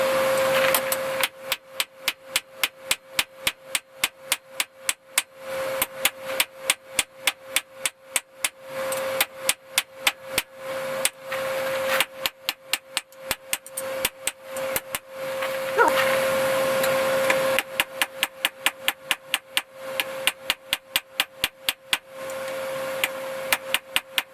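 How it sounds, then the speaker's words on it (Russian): Rapid metallic hammer blows ring out on a steel knife blank during forging, in fast, steady bursts, with short pauses between runs and a sustained ringing tone underneath. "мы сейчас ребром молота по плоскости разгоним в длину, начнем разгонять"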